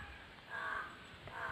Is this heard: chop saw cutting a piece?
no